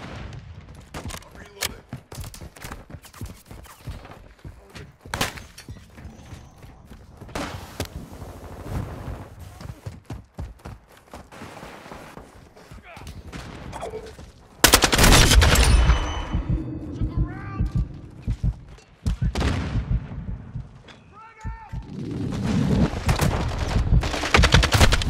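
Gunfire in the video game Warzone 2: rapid bursts of sharp shots and automatic fire, some distant and some close and loud, with a dense, heavier stretch of firing in the second half and a voice talking at times.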